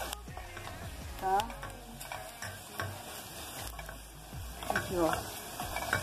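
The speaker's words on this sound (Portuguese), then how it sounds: "Olha o alho. Aqui, ó. Tá loirinho" Garlic sizzling in a pan for a Minas-style feijoada, a steady frying crackle with occasional stirring scrapes, close and moderate, while someone talks over it.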